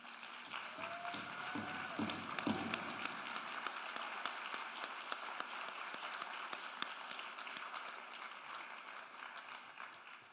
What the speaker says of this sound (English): let us applaud you for the wonderful work you've done for this